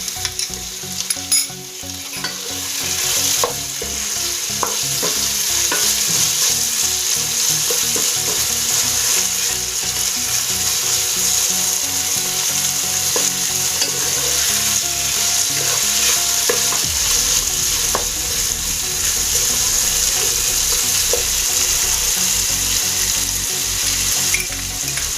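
Tomato frying in oil for pea rice, a loud close sizzle with repeated stirring and scraping of a spatula against the pan, continuous throughout without talk.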